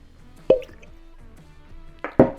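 A cork pulled from a bottle of Knob Creek Rye whiskey gives a sharp, close pop, followed shortly after by a second pair of quick, wet pops, with quiet liquid sounds between them.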